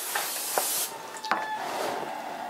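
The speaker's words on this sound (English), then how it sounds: "And I just spray the whole thing with olive oil" Olive oil sprayed from a pump bottle over a whole raw turkey before roasting: a few short hissing bursts, close and fairly quiet, separated by brief pauses.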